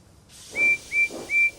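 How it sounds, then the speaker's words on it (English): Toy steam engine whistle from a Tomy train, three short, loud piping blasts over a steady background hiss, each about a quarter second, evenly spaced. "Percy whistled loudly."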